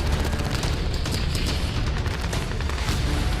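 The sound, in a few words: huge explosion destroying HMS Hood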